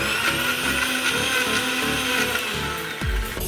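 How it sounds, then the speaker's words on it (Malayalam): A mixer grinder whirs steadily as it blends mango pieces into a shake, a loud, continuous motor drone that shifts pitch just before it stops. "അപ്പോൾ നമുക്ക് മിക്സിയിൽ അടിക്കാം."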